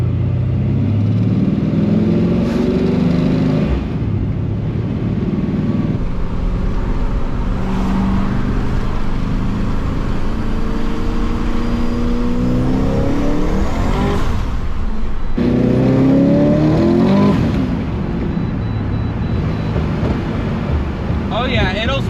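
A procharged Pontiac GTO cruises on the highway, its engine a loud, steady rumbling drone that rises and falls with throttle as revs swell and ease.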